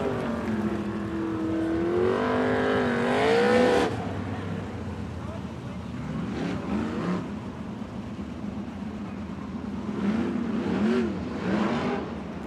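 Sprint cars race around the Coos Bay Speedway dirt oval during an Interstate Sprint Car Series event, engines revving and rising in pitch as they pass, loud and continuous under steady announcer commentary.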